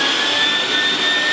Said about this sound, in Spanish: Una aspiradora.